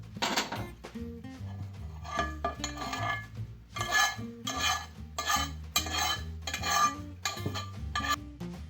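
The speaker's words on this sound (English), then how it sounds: "I'm basically toasting the black sesame just to see what happens" Black sesame seeds are toasted and stirred in a pan, with close, rhythmic scraping and light rattling strokes repeating steadily and a low hum underneath.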